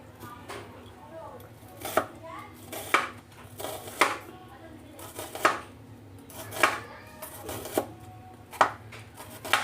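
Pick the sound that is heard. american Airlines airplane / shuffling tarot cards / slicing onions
slicing onions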